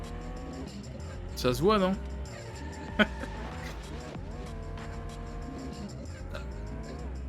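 Racing car in the PS2 game Pimp My Ride Street Racing, engine whining up and down through gear shifts with a brief tire squeal, all under continuous excited commentary from a player.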